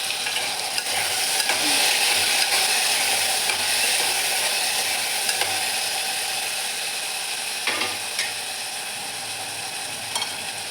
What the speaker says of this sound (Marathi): तेल गरम झालं आहे. मोहरी, जिरे, खडा मसाला, टोमॅटो पण टाकून घेतला आहे.